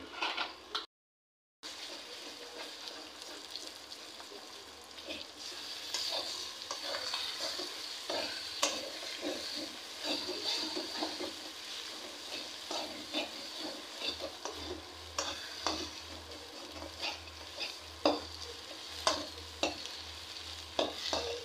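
Eggs fry with pumpkin flowers in a pan, giving a continuous low sizzle with scattered crackles and occasional scraping stirs, steady and fairly quiet throughout with no voices.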